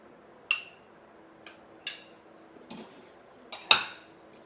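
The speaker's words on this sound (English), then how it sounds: "So this is how I'm going to mash it." Soaked, crushed chana dal is mashed in a bowl with a utensil, giving a handful of sharp, separate clinks and scrapes, quiet and spaced irregularly, with no talking.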